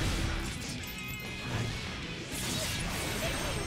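In Guilty Gear Strive, a fighter smashes through a glass-shattering wall break with a loud crash and a whooshing impact, followed by dense, continuous fight noise.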